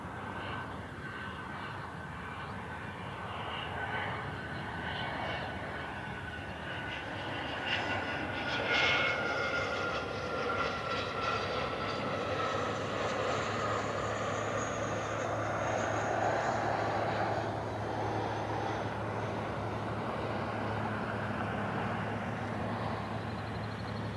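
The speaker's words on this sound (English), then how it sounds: "So we are starting to see some of those business jets head our way." Business jets flying in toward Cleveland Hopkins airport give a steady, broad engine roar that holds throughout, swelling slightly midway as an aircraft passes fairly near, with no talking.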